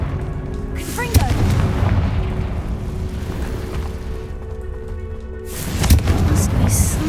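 A Confringo fire-spell blast in Hogwarts Legacy, a loud booming explosion with rumbling thunder-like low end, then a second heavy impact near the end amid sustained game background noise.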